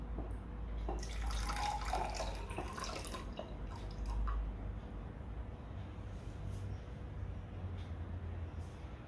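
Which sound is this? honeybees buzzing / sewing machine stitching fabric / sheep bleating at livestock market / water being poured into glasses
water being poured into glasses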